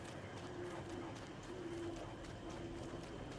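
In a rocky winter biome of the video game Don't Starve, a bird coos softly in repeated low notes, faint beneath a steady hiss of game ambience.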